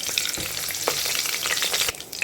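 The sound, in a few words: whole spices frying in ghee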